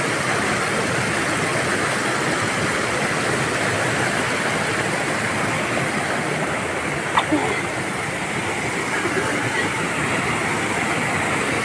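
A river rushes like a small waterfall, a loud, steady broadband roar of water filling the scene with little variation, close by.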